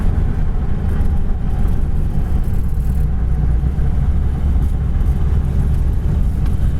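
A 1938 Ford Tudor pulls away in third gear, its engine a loud, steady, low rumble heard from inside the car for the whole stretch, with no talking.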